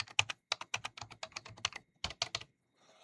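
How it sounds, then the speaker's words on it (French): Rapid bursts of keystrokes on a computer keyboard as a name is typed into a Roblox game, irregular clusters of clicks close up with a brief pause before a final few taps. "Donc là, moi, j'écris mon nom."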